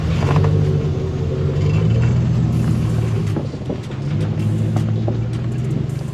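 A Chevy Silverado drives off-road, its engine a loud, steady low rumble with bumps and rattles as the truck moves over rough ground.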